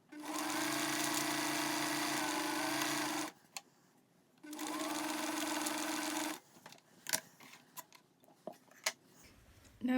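A sewing machine stitches in two close, steady bursts of rapid whirring, with pauses of handling clicks and small taps of fabric in between.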